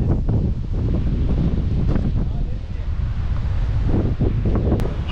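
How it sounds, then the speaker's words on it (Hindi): Strong wind at Pimpalgaon Joge Dam in Malshej Ghat buffets the microphone of a moving vehicle, roaring and gusting constantly, with a voice faintly audible beneath the noise. "हवा इतना ज़्यादा चल रहा है ना कि गाड़ी अपन ऐसा चला रहे लेकिन फेंक रहे अपने को ये बाजू मतलब इतना ज़्यादा विंडी है"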